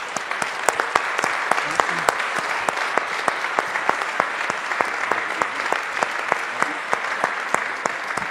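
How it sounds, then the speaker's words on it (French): Steady applause from a sizeable conference audience, many hands clapping together in a dense, sustained patter without a break. "un tonnerre d'applaudissements"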